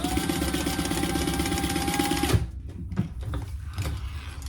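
A sewing machine stitches a basting stitch in a steady mechanical whir, then stops abruptly and leaves a few soft handling clicks and rustles.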